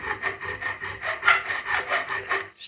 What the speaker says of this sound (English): I'm basically just filing it down